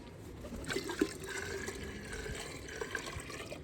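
A container fills with water, a steady close gurgling flow with small splashes running throughout the clip, fairly quiet and without speech.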